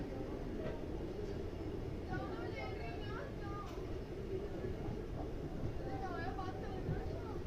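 The Naini Jan Shatabdi Express rumbles along near Lalkuan Junction toward Kathgodam, a steady low rolling drone heard from aboard with faint squeals and voices chattering in the background.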